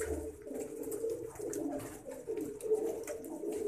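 Domestic pigeons, including ringed fancy birds in a loft, coo in repeated low throaty phrases, close and fairly steady, with soft rustling in the background and no speech.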